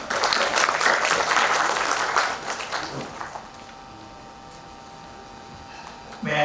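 Audience applause welcoming a speaker at a tax bar association gathering, a dense steady burst of clapping for about three seconds that fades out, leaving a quiet room with a faint hum before a brief rustle at the end.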